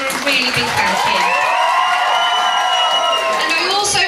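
Audience at a school prom evening clapping and whooping, with voices woven through a bright, steady crowd roar that holds for about four seconds.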